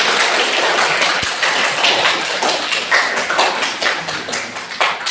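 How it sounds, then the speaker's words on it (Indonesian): A classroom of students claps for a group after their presentation in an Islamic studies lesson, a dense, steady patter of many hands lasting several seconds, fairly loud and close, with no clear talk over it. "Kasih aplaus, kasih aplaus."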